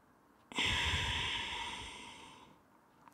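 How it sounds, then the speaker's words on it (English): Deep yoga breath, one long, close airy exhale lasting about two seconds that fades out, then near silence. "Breathe in. Breathe out."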